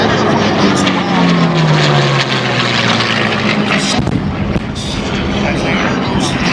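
A WWII-era warbird airplane makes a loud close pass at the Sun 'n Fun 2012 airshow, its engine roar mixed with a high-pitched screech as air rushes through the wing cores, the pitch sliding downward as it goes by.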